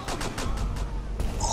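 Rapid SMG fire in Rainbow Six Siege comes as a quick run of evenly spaced shots, fairly close but moderate in level, and stops after about a second.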